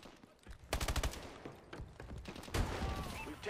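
Call of Duty: Advanced Warfare firefight with bursts of automatic gunfire, several close volleys and scattered shots amid battlefield noise, fairly quiet overall.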